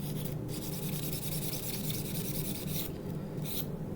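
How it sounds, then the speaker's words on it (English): A scouring bowl pad rubs steadily against a rusty knife blade in a continuous close, soft scratching, with a few slight breaks in the strokes. "I'm going to use the bowl pad one more time on the side where there was a lot of rust."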